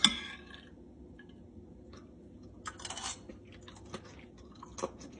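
Close, fairly quiet chewing of homemade shrimp scampi in lemon sauce served over wheat sticks, with a few soft crunchy bites and clicks spread over several seconds of near silence.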